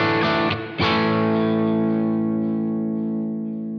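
Electric guitar through a Blackstar Polar 2 set to low preamp gain rings out a sustained, lightly driven chord, re-struck once, then decays slowly with reverb and no talking.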